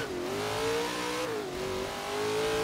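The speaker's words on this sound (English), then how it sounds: "we're driving a purpose-built drag car in the rain" A supercharged Chevy Nova drag car in Forza Horizon 3, driven in the rain, revs loudly and steadily, its engine tone dipping and climbing through brief gear changes with no talk.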